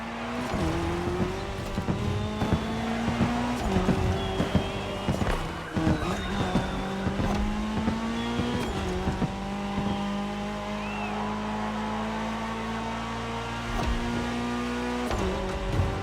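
Ford Puma Hybrid Rally 1 rally cars racing in The Crew Motorfest video game, steady loud engine drone with shifting revs, gear changes and tire squeal running continuously throughout.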